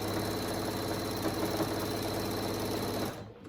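A sewing machine stitches a small triangle hanging hammock for caged animals, humming and rattling continuously up close before halting abruptly at the end.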